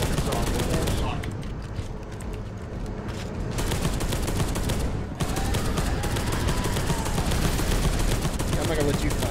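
Dense, sustained gunfire from stubbers and missile launchers in the Warhammer 40k game Space Hulk: Deathwing, loud and continuous throughout with a brief dip near the middle.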